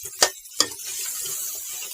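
Goat meat sautés in a pan until deeply browned: two sharp stirring scrapes come first, then a continuous close sizzle carries on alone.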